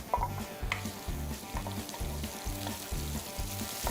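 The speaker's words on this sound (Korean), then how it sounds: "생강과 양파를 살짝 볶아주세요." Ginger and onion fry in a couple spoonfuls of cooking oil in a wok while being stirred, a steady close sizzle with rhythmic scraping pulses throughout, no talking.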